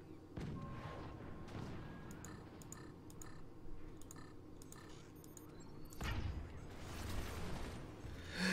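Weapons and artillery firing in the fort-building strategy video game Forts, with repeated mechanical ticks and clicks, booming shots and a louder rumbling surge of fire toward the end, all fairly faint.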